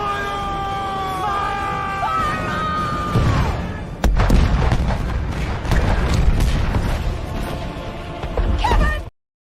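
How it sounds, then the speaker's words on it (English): A cannon-blast sound effect booms loudly and suddenly after a wailing, falling siren-like tone, followed by a dense, roaring rumble with crackling bursts that ends abruptly. "The Kevin Cannon is back"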